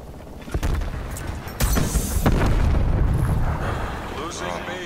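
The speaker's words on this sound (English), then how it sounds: "Holy shit, that dude just got rocket launchered." Rocket launcher blast in Black Ops Cold War hardcore multiplayer: a deep rumbling explosion swells in the middle and lingers amid scattered bangs and game noise, with players talking over it.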